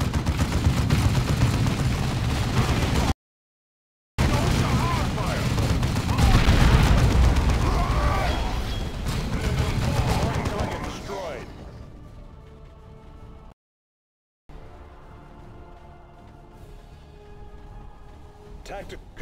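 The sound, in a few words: heavy bolter fire in video game Dawn of War II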